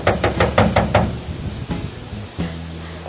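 Hard banging on the hull of a capsized boat: a quick burst of about six sharp, hollow knocks, then a pause and a single heavier thud, close and loud with no talking.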